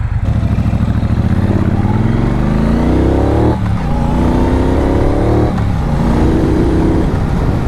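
A 2022 Triumph Bonneville Bobber motorcycle engine revs loud and close, climbing through the gears with two brief shift dips, and no voices are heard.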